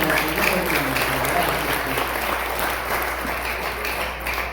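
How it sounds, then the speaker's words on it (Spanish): Church congregation applauding during a service, a continuous wash of clapping at moderate volume, with a low steady hum underneath. "Le damos aplausos"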